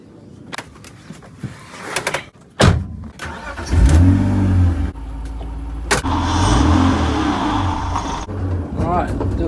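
A BMW E46 drift car fitted with an angle kit idles and revs, its engine rumbling loudly and close, with a door thud and a few blips rising over a steady running drone.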